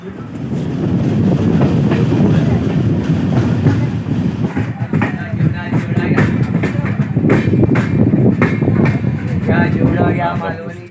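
A train to Mumbai rumbles steadily from inside a carriage, wheels clacking rhythmically over the rails, with a loud continuous roar throughout.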